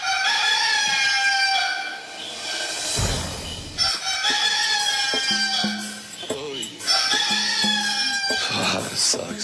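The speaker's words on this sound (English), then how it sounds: "this morning the rooster woke me up" Roosters crow repeatedly and loudly at close range, drawn-out harmonic calls in several bursts, with clucking fowl and some voice-like sounds mixed in.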